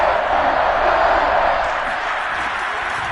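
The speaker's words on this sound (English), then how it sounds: "The crowd getting into it as we come up on a big 3rd down." A stadium crowd in a Madden football video game roars in a steady, dense wash of cheering that swells slightly, then eases, heard as continuous broadband crowd noise.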